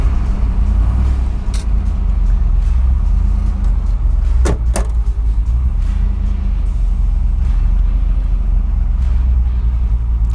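A rebuilt V8 in a 1969 Ford Mustang Boss 9 idles while warming up, a loud, deep, steady rumble close to the microphone, with a couple of brief clunks partway through.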